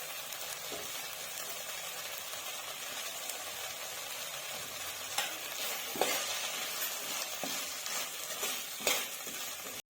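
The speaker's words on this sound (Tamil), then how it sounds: "இப்போ பாவக்காவை வந்து இந்த வெங்காயம் தக்காளி கூட கொஞ்ச நேரம் ஒரு ரெண்டு நிமிஷம் நல்லா வதக்கி விட்டுக்கலாம்" Bitter gourd sautés with onion and tomato in a pan for pavakkai kulambu, giving a steady, close frying sizzle with occasional stirring scrapes and no talk.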